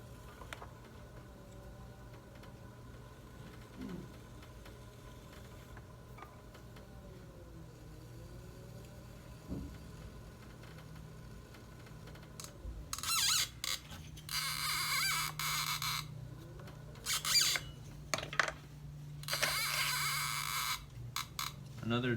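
A trimming tool scrapes clay from the foot ring of a wheel-thrown bowl spinning on a potter's wheel. Rough, hissing bursts grow loud and come in uneven runs over the wheel's low, steady hum after a quieter stretch.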